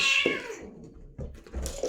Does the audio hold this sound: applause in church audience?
no